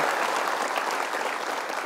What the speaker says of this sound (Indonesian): Jadi saya pikir kita berikan tepuk tangan dulu untuk Gayatri